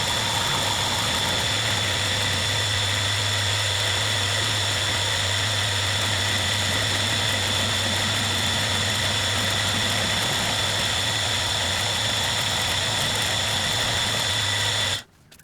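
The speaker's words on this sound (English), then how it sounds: "I use a face mill to machine the surface of the platform to remove the original mill scale." A face mill on a Hafco HM45 bench mill skims the mill scale off a steel grinder platform, giving a steady, loud mechanical hum with a constant low drone and high whine that runs unbroken before cutting off abruptly at the end.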